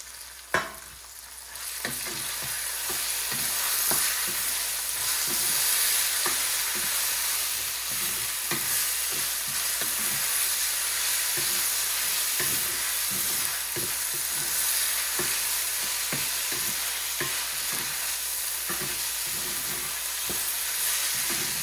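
Grated potato frying in hot oil in a pan for a crispy potato chevdo, a loud steady sizzle and crackle throughout with frequent spatula stirring clicks, close up and without speech.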